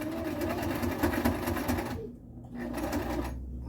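Sewing machine zigzag stitching a chin strap onto a hat: a fast, steady mechanical whir running close and loud, briefly pausing twice, with no one talking over it.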